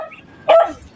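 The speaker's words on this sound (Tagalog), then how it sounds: "May aso dito, at least may aso." A dog at a sandy beach resort in Mamburao, Occidental Mindoro gives a single short bark or yip, fairly close and loud, with faint background noise around it.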